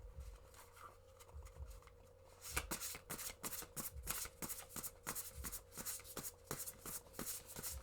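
Tarot cards shuffled close up in a quiet room, a rapid rippling riffle of crisp card flicks and soft slaps that grows busier and repeats in quick bursts.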